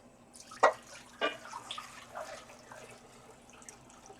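Water rinsing dip-dyed fabric dyed with food colouring: a few splashy drips and pours near the start, then softer trickling and sloshing, close and fairly quiet with no talking.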